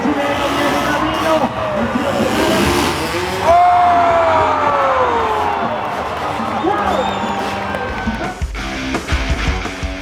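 Monster truck engines roar inside a Monster Jam arena show in Medellín, rising and falling in loud revving sweeps with a steady crowd din beneath them.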